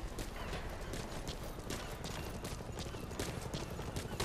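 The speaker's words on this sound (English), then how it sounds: "You can hear gunfire in the background as well. That is from the shooting range." Dense, continuous clatter of distant gunfire from a shooting range in Metal Gear Solid 5: The Phantom Pain, with sharp bursts throughout, under a steady background wash; no voices.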